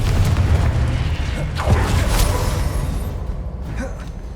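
A Confringo fire spell explodes in the Hogwarts Legacy game, a heavy booming blast with a rushing whoosh that swells and then slowly fades over a few seconds, loud and close with no speech.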